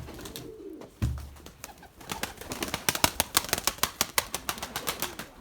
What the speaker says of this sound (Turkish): Bakın bu kuş sıkta. inmeye çalışıyor